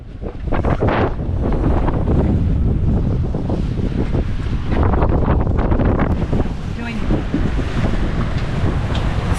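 Strong wind roars across the microphone of a sailboat at sea doing 6.5 to 7 knots in a 14-knot breeze, a loud steady rushing with waves washing beneath.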